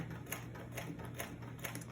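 A secondhand sewing machine stitches fabric with a rapid, even mechanical clatter and a low motor hum, faint and close, with no talking.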